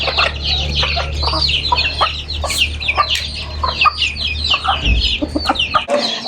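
Hens and young chicks clucking and peeping together in a farmyard, busy overlapping calls close by over a low steady hum, with a brief rustle near the end.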